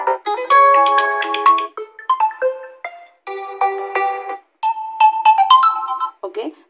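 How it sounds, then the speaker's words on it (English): Default ringtones on a realme 8 phone play one after another, bright electronic melodic tones in several short phrases with brief gaps between them, loud and close. "Okay, so these are the default ringtone"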